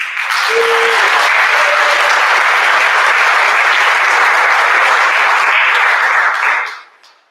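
A school assembly audience breaks into steady, loud applause for the Student of the Year award, many hands clapping continuously before the sound fades out near the end; a brief whistle-like tone rises early on.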